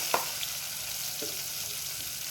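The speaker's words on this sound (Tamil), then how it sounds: "கடுகு போடணும். கடுகு நல்லா பொரிஞ்ச பின்னாடி" Mustard seeds and cumin frying in hot oil for a cabbage sambar give a steady, faint sizzle throughout, with a couple of brief sharp pops near the start.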